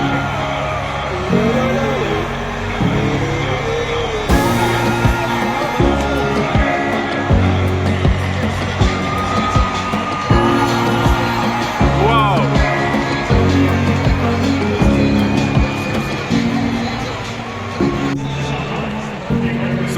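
A loud crowd fills an arena at an Ottawa Senators hockey game in Ottawa, Canada, with cheers and yells over arena music and nearby talking.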